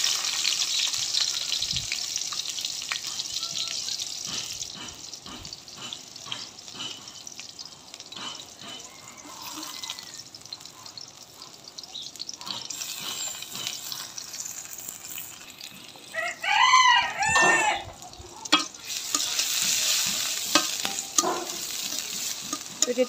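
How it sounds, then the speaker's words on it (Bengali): Chopped onions and green chillies sizzle in a hot wok (kadai) as a spoon scrapes and stirs them. The frying crackles steadily and swells into louder bursts partway through, with no talking. "এখন আমি পেঁয়াজ কাঁচামরিচগুলি দিয়ে দিব এখানে কেটে রাখা।"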